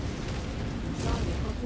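Incoming missile explosion in the MechWarrior 5 video game, heard as a dense, rumbling blast with a noisy low roar that swells briefly partway through.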